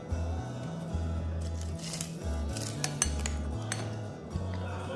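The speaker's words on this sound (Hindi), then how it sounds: "अब इसमें चिकन भी डाल देंगे" Pieces of chicken go into a pot of hot and sour soup, with clinks and scrapes of a utensil against the metal pot and a soft bubbling sizzle, close by and intermittent, over a low background hum.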